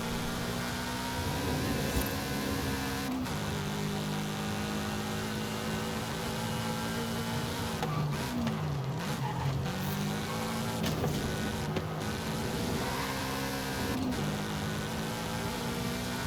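A tuned Subaru BRZ is driven hard around a track in Forza Horizon 5, its engine loud and close, rising and falling through gear changes, with brief tire squeals on corners and no talking.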